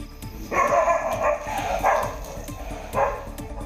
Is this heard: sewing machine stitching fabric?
no